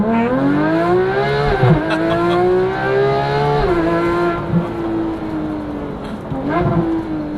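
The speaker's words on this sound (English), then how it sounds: "I cannot get over how good this car sounds." A 2015 Porsche 911 GT3 engine revs loudly and repeatedly, rising in pitch then dropping back, with several sharp throttle blips in a rapid sequence.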